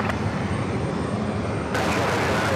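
An Airbus A320 jet airliner at JFK airport gives a loud, broad, steady engine roar that brightens and swells for its last second.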